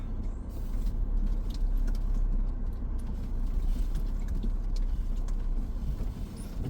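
A vehicle rolling slowly along a dirt road through a monoculture tree farm, with a continuous low engine and tire rumble, gravel crunch and occasional clicks and rattles, heard close with no talking.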